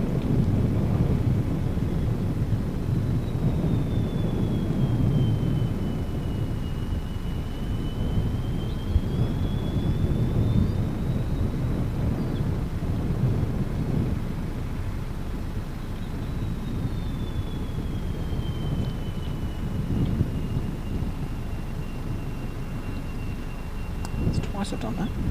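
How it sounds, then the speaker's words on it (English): Aircraft engine spooling up at Gold Coast Airport, a loud steady low roar with a rising then falling whine. "You can hear that powering up now, spooling up."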